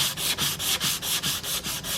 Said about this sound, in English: I'll just give it a light sanding